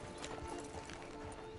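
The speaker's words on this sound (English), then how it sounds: "Get on the horse there." A horse in Red Dead Online walks with a steady, soft clip-clop of hooves under a dense wash of game ambience, fairly quiet and continuous.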